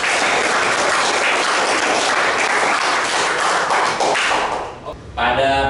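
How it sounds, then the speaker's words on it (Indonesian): A classroom of students applauds together, a loud, dense burst of clapping lasting several seconds before it breaks off and a voice starts speaking. "Tepuk tangan untuk semua."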